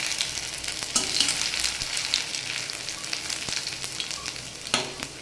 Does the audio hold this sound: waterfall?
no